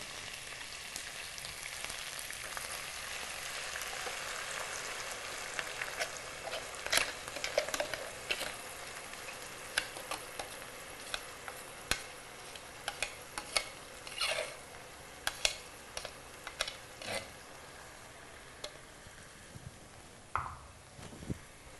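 Ground masala paste fries in oil for a fish soup, giving a steady soft sizzle broken by irregular scrapes and clicks of a spoon stirring it, close up and fairly quiet throughout.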